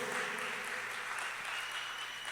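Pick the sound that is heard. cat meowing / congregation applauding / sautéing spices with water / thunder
congregation applauding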